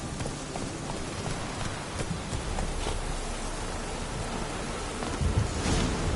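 Roach, the horse in The Witcher 3, moving at a steady clip-clop of hooves. A constant rain-like hiss of ambience sits beneath the hoofbeats, which swell slightly near the end.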